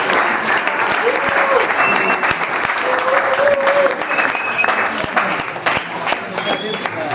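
A room full of people clapping in a session, sustained applause at close range with a few voices and whistles mixed in.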